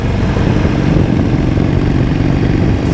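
A Harley-Davidson motorcycle engine runs at a steady, loud, rumbling idle close by, with no talking, as the bike is being winterized.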